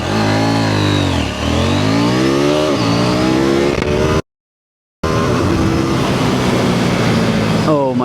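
A KTM 790 Duke motorcycle in sports mode accelerating hard, its engine climbing through rising revs with gear changes, loud and close, briefly cut to silence before pulling hard again.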